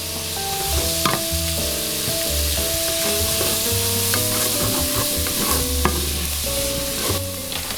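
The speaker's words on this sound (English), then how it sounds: "I'm gonna put about a tablespoon of butter in there." About a tablespoon of butter melts in a hot pan, giving a continuous close sizzle and crackle with tonal background sounds and no talking.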